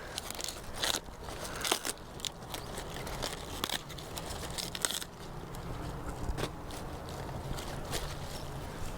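Outer leaves being peeled off a garden-grown vegetable for kimchi, a run of close, quiet crackling and snapping tears scattered over several seconds.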